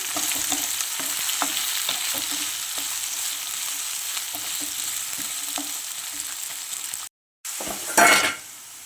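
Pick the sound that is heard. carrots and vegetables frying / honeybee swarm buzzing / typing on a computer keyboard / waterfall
carrots and vegetables frying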